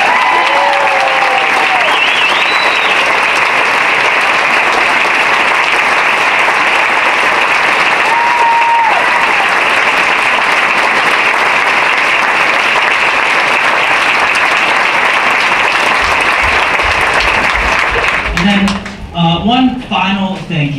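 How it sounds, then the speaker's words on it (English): A big, sustained round of applause for a teacher after a school holiday performance, dense clapping from a large audience filling the room for about eighteen seconds, with a few whoops over it before it thins out and fades. "Can we get a big, huge round of applause for Cindy Hall?"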